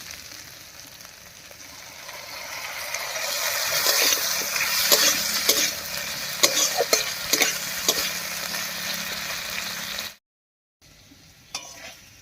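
Potatoes fried in a pan with ground spice paste for a banana-flower mochar ghonto sizzle steadily while a spoon stirs and scrapes in repeated clinks, building louder midway before a brief cut to quiet.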